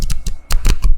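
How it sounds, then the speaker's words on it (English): A deck of playing cards of linen-like cardstock is flexed, giving a rapid series of crisp, close snapping and riffling bursts with no talk. "You hear that snap? It is flexible. To shuffle it is amazing."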